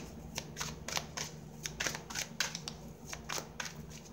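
Tarot cards are shuffled by hand in a series of quick, crisp riffling bursts, close up, with short pauses between them.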